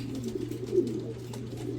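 Jansen pigeons coo in low, soft, rounded calls over a steady background hum, close and continuous through the short moment.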